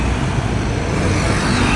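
Dense, steady roadway traffic on a Philippine street: a continuous broadband rumble of cars and other motor vehicles, close and loud, with no clear gaps or distinct passes.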